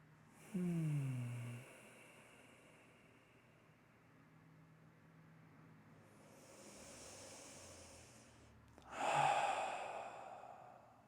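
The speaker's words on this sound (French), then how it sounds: "on va prendre 3 profondes respirations" A slow, deep breath drawn in and let out during a guided meditation, soft and close in a quiet room, followed after a pause by a second fuller exhale.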